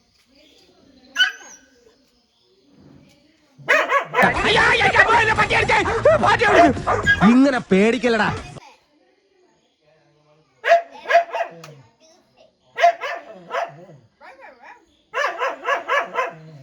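A child imitates a dog barking, with yips, whimpers and bark-like cries in bursts, mixed with an adult talking and a dense stretch of noisy vocalizing and play.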